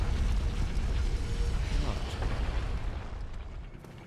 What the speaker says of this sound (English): Is that the boulder coming by?